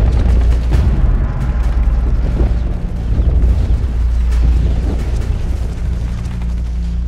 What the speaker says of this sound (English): In the German counterattack, Sullivan will fall to artillery fire